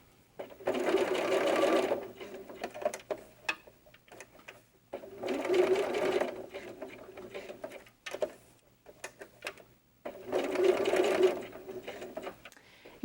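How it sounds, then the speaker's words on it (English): A sewing machine sews hook and loop closure onto doll diaper tabs in three bursts of rapid needle stitching, with quiet clicks and handling noises between the runs, close up and without speech. "we're just going to sew the opposite piece of the hook and loop closure onto our tabs"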